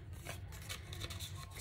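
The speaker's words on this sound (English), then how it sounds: "I'm just gonna cut one of those out for now." Scissors snip out paper numbers cut from junk-mail envelopes, several quiet, close crisp cuts and rustles in quick succession.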